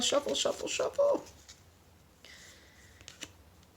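A small deck of oracle cards is shuffled quickly by hand, giving a brief, soft burst of papery riffling and flicking, followed by quiet room tone and a faint light tap.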